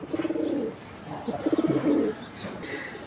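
A silver pigeon cooing close by in two rhythmic bursts of low, throaty rolling coos, with faint background noise between them.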